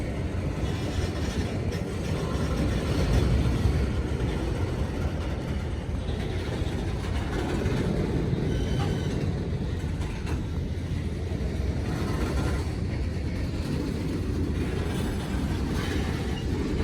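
A long CSX freight train rolls steadily past nearby, a continuous rumble of wheels and rattling cars with occasional faint squeals.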